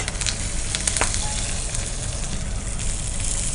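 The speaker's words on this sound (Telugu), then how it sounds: "వేడి వేడి ఆయిల్లో పచ్చిమిరపకాయలు మంచిగా మజ్జిగ కచ్చేసి అలా వేస్తే ఆ ఘాట్ వస్తుంది" Green chilies and curry leaves with cumin sizzle steadily in hot oil, a loud, continuous close-up crackle with a few sharper pops and no voices.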